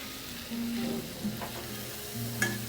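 A spoon stirs paneer masala curry in a pan, giving soft scraping strokes over a low, steady sizzle, close but quiet, with no voices.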